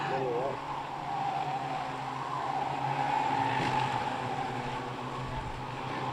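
Ministox race cars lap the Cowdenbeath Racewall oval in a British championship race, a continuous distant engine drone and tire noise under steady commentary.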